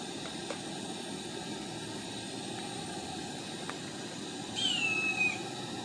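A blue jay gives a single short call near the end, heard over a steady background hiss from a kitchen where a pot is coming to a boil.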